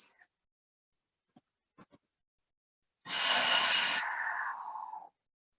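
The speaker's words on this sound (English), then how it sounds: "Let's just take 2 breaths." A deep breath during a yoga class: a few faint clicks and rustles in near silence, then one long, loud, breathy exhale lasting about two seconds, close to the microphone, with no talking.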